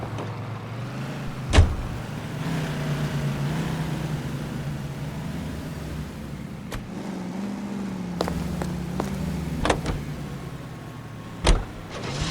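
Car driving in LA Noire, a steady engine hum carrying through the whole stretch with a few sharp knocks and clicks breaking in now and then, no voices over it.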